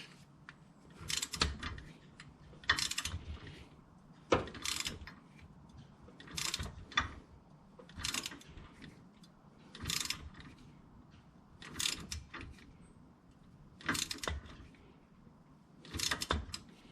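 A torque wrench tightening a sway bar disconnect on a 1998 Jeep Cherokee XJ to 40 foot-pounds: eight or nine bursts of rapid ratcheting clicks, spaced about two seconds apart, close and fairly quiet.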